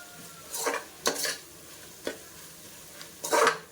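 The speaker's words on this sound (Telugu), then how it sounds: "వన్ స్పూన్ పసుపు యాడ్ చేసి ఒకసారి కలుపుకోండి" Turmeric being stirred into chicken biryani in a cooker pot: four or five distinct scraping, clattering spoon strokes against the metal with short quiet gaps between them, close up and without talk.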